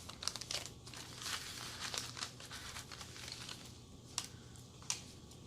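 Thin vintage envelope paper is handled up close, giving quiet crinkling and rustling with a few sharper crackles and small taps.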